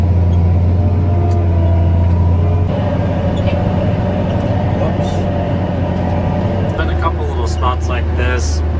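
A Challenger 765B tractor pulls a Sunflower 6630 disc through an overgrown field, a loud, steady low engine drone with rattling and clanking from the implement, heard close and continuous throughout.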